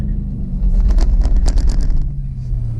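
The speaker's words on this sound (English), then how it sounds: "That was a terrible burnout." A Dodge Challenger RT Hemi on street tires does a burnout at the drag strip, a loud close engine rumble swelling with a rough hissing tire-spin burst in the middle before easing off.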